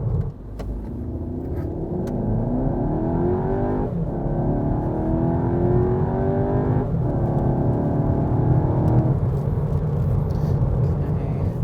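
Skoda Karoq in Sport mode pulling hard from 0 to 100 km/h, engine note rising steadily through each gear with two clear upshift dips along the way, loud and continuous from inside the cabin.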